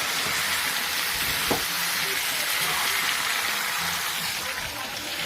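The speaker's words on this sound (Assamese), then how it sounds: "ঢাকন লগাই লগাই ভাজি আছোঁ মই" Food fries in a pan with a lid on, giving a steady, close sizzle that fills the whole stretch, with one brief clatter partway through.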